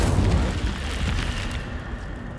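Incendio fire spell cast in the video game Hogwarts Legacy, a rushing whoosh of flame with a dull booming burst at the start that fades into a rumbling roar.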